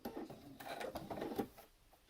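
A sewing machine stitches slowly over thick pleats of a fabric face mask, a close rapid mechanical clatter for a second or so before tapering off quietly.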